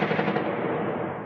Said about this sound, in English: what sounds like gunfire reverberates around the city of Sumy in the north